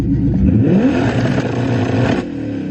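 A car engine on launch control revs hard with a stuttering, popping crackle, loud and close, briefly easing near the end.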